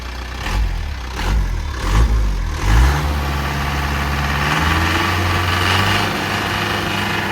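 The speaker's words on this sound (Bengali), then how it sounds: "সাউন্ডটা আসলে অরিজিনাল ইঞ্জিনের সাউন্ড কিন্তু একটু আলাদা একটা ভাইব থাকে" A JAC car engine revs in several short bursts, then settles into a steady idle with a rising, throaty hum; no one speaks.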